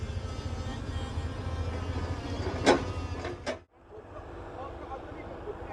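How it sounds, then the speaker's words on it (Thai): An air blower inflates a biogas digester balloon on a pig farm, producing a steady, loud, broadband rushing roar with a couple of brief knocks, then abruptly dropping to a quieter continuous hum. "ตอนนี้นะครับก็เป็นการเป่าลมนะครับ เข้าบอลลูนนะครับ ซึ่งเราจะใช้เครื่องเป่าลมจนเต็มนะครับ"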